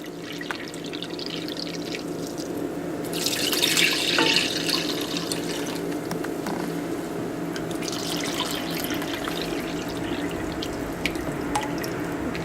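Vinegar, two cups of it, poured from a jug into a bowl for an old-fashioned mustard pickle paste, running as a steady liquid stream with a brief louder splash partway through, close and alone.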